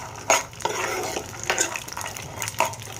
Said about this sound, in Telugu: ఇలా అంతా వేరుశనగపప్పు వేసేసుకున్న తర్వాత సిమ్లో పెట్టి లైట్గా వేయించుకోవాలి